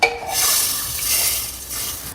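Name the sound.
hot ghee tempering poured into sambhar, stirred in pot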